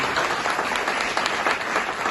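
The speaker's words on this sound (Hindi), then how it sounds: "जोरदार तालियों के साथ" Audience applause at a staging of the musical play Zikr-e-Ghalib, a dense, loud, sustained wash of many hands clapping without pause, with no voices.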